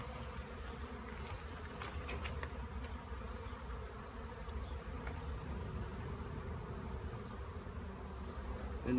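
Honeybees buzzing around an open hive during a winter hive check, a steady droning hum close to the microphone with individual bees zipping past now and then, no voices.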